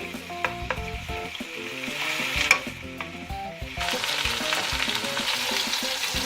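Chicken pieces fry in hot oil for Sindhi biryani, a dense close sizzle broken by clanking stirs at first, then swelling into a louder continuous hiss with no talk.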